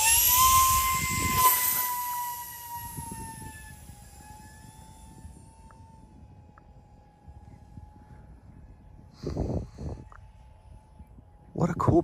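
A small electric Beechcraft Starship model plane whines with a high, steady motor tone that slowly fades as it flies off, then returns with louder bursts near the end.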